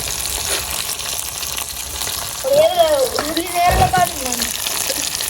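Fish sizzles and crackles in hot oil during a night-time cooking session in Jaffna, a loud, steady frying hiss with some stirring, while a voice talks over it.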